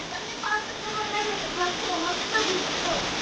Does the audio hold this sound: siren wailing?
no